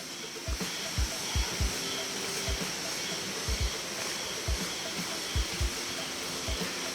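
The Lawaeng River on Sangihe island, its water rushing in a steady broadband wash with faint intermittent low thumps, fairly close and continuous with no speech.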